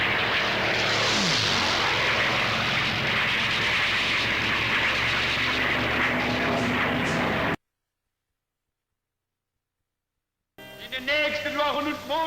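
Hurricane and Spitfire fighter aircraft engines over the North African desert roar loud and steady with a passing pitch sweep, under a narrator's voice, then cut to silence before a burst of unrelated marching and singing.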